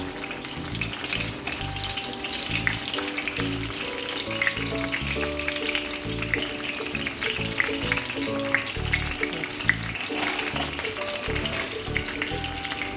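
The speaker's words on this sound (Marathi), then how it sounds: "डायरेक्ट फ्रोझन तव्यावर टाकायचे, जास्त तेल टाकून" Frozen ragda patties frying in plenty of hot oil on a griddle, a steady crackling sizzle with scattered pops and spits running throughout at close range, no talking.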